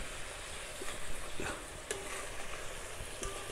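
Small mourala fish fry in a village-style pan while a spatula gently turns them, producing a steady sizzling hiss with occasional soft scrapes and light clinks of metal.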